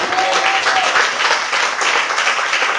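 A church congregation applauds during a Sunday worship service, a steady dense wash of clapping that fills the whole moment, loud and close, with no voices rising above it.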